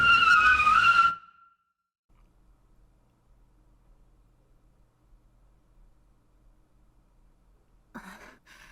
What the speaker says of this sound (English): Stop, Milk. There's a car, says Vanilla